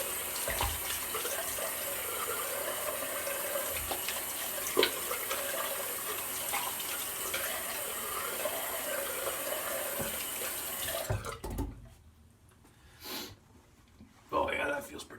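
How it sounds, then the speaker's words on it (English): Tap water running steadily into a bathroom sink for a cold rinse after shaving, a continuous close splash that cuts off near the end, followed by brief quiet and a couple of short sounds. "going to the cold water rinse"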